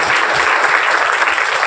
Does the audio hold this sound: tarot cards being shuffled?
no